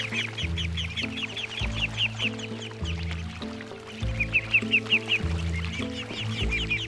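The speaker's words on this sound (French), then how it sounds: "les canards remuent la terre en pataugeant" Ducks paddling in a flooded Camargue rice paddy, with a steady run of nasal quacks and clucking calls, some near and some farther off, over a low droning background.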